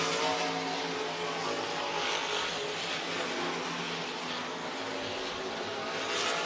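Stock cars roar around the track at Crawford County Speedway, a steady, dense wash of engine noise from several cars at mid distance with no clear breaks.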